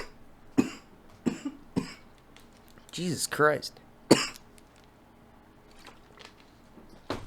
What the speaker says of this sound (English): I got a cough for some reason real bad